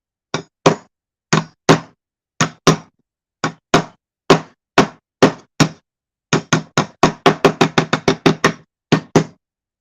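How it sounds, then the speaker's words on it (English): A wooden-handled hammer, rehandled in yellow cedar, knocks sharply and loudly in irregular pairs and short bursts, each strike crisp with a quick decay, finishing in a rapid run of blows, with no talk. "just so happens I got a basher right here. This is the hammer that Big J sent up to get rehandled"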